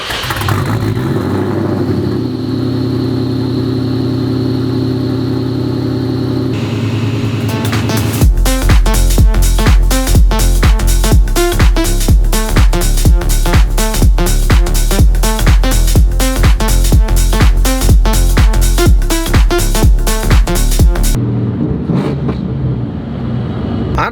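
A hail-damaged Ford Mustang SVT Terminator Cobra idles steadily, then breaks into a long run of sharp, rapid rhythmic pulses at close range before settling back to a quieter idle.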